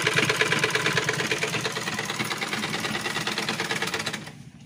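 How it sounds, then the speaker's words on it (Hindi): A sewing machine runs steadily while stitching a cover for a quilt in a home setting, with a fast, even mechanical whir and clatter. It is close and continuous, then stops abruptly near the end. "भाभी इधर रजाई का कवर सिल रही है"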